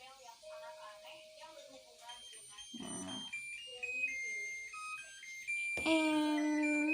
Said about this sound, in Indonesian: Dan dia bersuara seperti ini, kayak alarm gitu